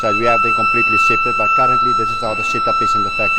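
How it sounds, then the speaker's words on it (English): Factory alarm sounding to signal the end of the lunch break, a steady high electronic tone that holds continuously behind someone talking close by. "that's the alarm to bring them back from lunch"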